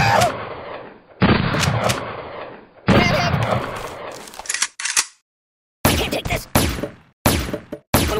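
Gunfire crackles through the Kick The Buddy video game in loud, bursty volleys with brief silent gaps between them, mixed with sharp impacts and game effects.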